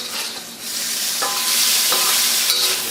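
Food stir-fries in a hot wok, a loud, dense, continuous sizzle with a few quick metallic scrapes as it is tossed in and out of the heat.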